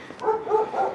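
A dog gives three short, close barks in quick succession, fairly loud, over a quiet background.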